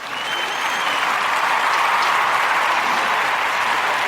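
Steady, loud crowd applause with scattered cheering, sustained evenly from start to finish as a jubilant audience claps along.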